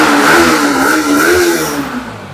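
A used Yamaha MT-15 motorcycle at a second-hand bike showroom revs close by, its engine note rising and falling in steady throttle blips that continue for the whole few seconds with no talk over it.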